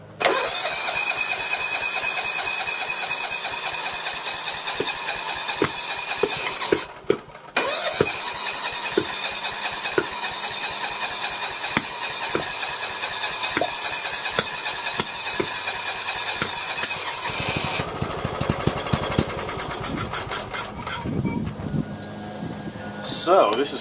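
A Kawasaki FC420V engine on a John Deere 170 lawn tractor cranks loudly and keeps trying to catch on choke, with a brief pause midway. The churning gives way to uneven sputtering near the end.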